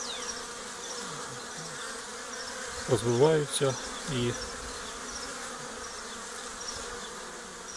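A steady, faint honeybee buzz hums throughout at an apiary as bees bring in pollen, with a brief stretch of talking partway through.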